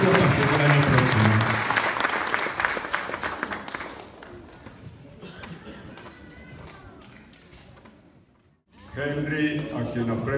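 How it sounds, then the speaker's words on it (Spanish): Audience applause at a school graduation ceremony for Centro Educativo Exploradores, a dense, loud burst of many hands clapping that fades after a few seconds as a speaker talks over a quieter room. "Fuerte el aplauso para las personas que van a tener el nombre de nuestro colegio a partir del año próximo."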